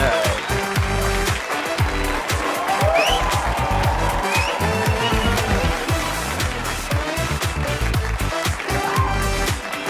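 Dense, loud, sustained applause from a theatre audience welcoming actor Rajkummar Rao onto a comedy talk show stage, steady clapping throughout.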